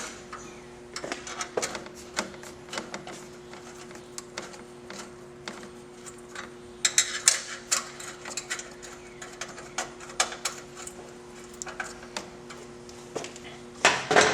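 Small metallic clicks and taps come from hand tools as heat shields on a Freedom exhaust for a cross bike are tightened, scattered and irregular over a low steady hum, with a louder rattle at the end.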